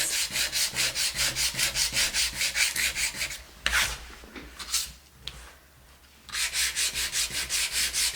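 Rhythmic hand sanding on knotty wood planks, steady back-and-forth strokes in straight lines, with a brief pause of scattered rubbing and handling in the middle before strokes resume.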